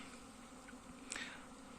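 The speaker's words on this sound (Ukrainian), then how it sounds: "Ось який обліт бджіл." Honeybees buzzing around their hives on a sunny February cleansing flight, a soft, faint hum of many insects with one bee briefly passing close.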